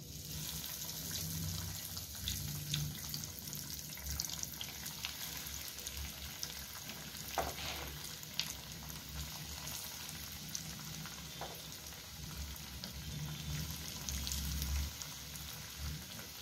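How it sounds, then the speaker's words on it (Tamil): Chicken cutlets shallow frying in hot oil on a tawa, a steady close sizzle and crackle running throughout at even loudness, with a few small pops and utensil touches. "இப்போ கட்லெட் வைக்கலாம்."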